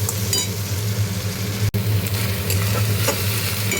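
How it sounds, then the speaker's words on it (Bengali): Onion paste for a fish curry fries hard in a pan with a dense, steady sizzle, while occasional stirring scrapes cut through it. A low rumbling hum sits underneath, and one sharp click lands partway through. "পেঁয়াজের গন্ধটা যতক্ষণ না যাবে ততক্ষণ আমি কষবো।"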